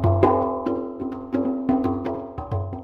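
An Ableton Corpus membrane resonator pitched at C3 sounds a series of ringing, metallic, steel-drum-like tones. About eight struck notes decay quickly, each with a low booming body, and no one speaks.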